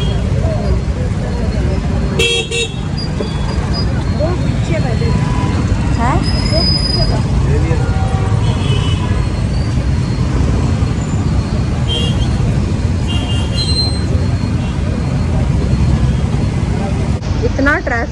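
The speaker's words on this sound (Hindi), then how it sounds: "कितना ट्रैफिक है भगवान।" Heavy road traffic rumbles on continuously and loudly, with engines and a few horn toots rising over the dense street noise. People can be heard talking amid it.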